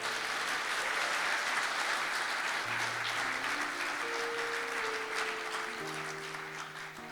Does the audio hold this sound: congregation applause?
yes